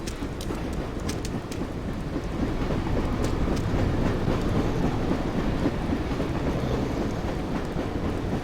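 Train passing in the video game Dreamfall: The Longest Journey, a steady, loud rumbling roar with faint rattling clicks that continues unbroken throughout.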